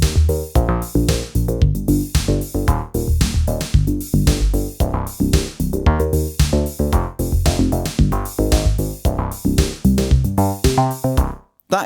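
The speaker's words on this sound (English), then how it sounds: "if you do absolutely love the sound of the System 700, then I have multi-sampled it." Multi-sampled Roland System 700 synth bass, punchy repeated bass notes in a driving rhythmic sequence with bright percussive hits, loud and close, with no voices.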